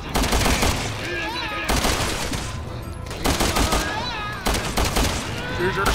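Gunfire in the video game Resident Evil 6, dense bursts of rapid shots and fusillades repeating across the scene with game effects layered in, loud and busy throughout.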